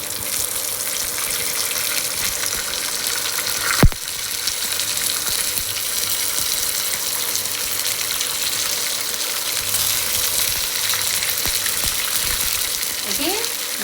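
Green peas frying in a pan of oil, with a steady, broadband sizzle running throughout and a brief louder clatter early on.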